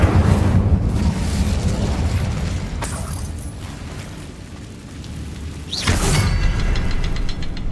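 An Incendio fire spell cast in the video game Hogwarts Legacy: two loud whooshing fiery bursts, a few seconds apart, over a continuous low rumble of game ambience.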